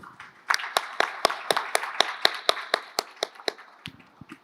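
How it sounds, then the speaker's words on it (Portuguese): At a high-level panel, a small audience claps in a clear, regular rhythm, about a dozen distinct claps in sequence, fairly close, before trailing off. "Salve de palmas para o Wes, por favor."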